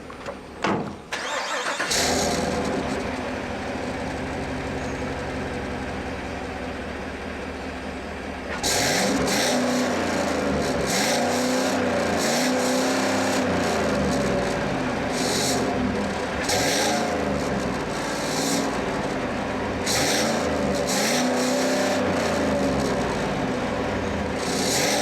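A 6.2-liter V8 engine in a 2017 Chevrolet Silverado pickup cranks and catches, idles with a deep rumble, then revs repeatedly in strong, throaty bursts, loud and close.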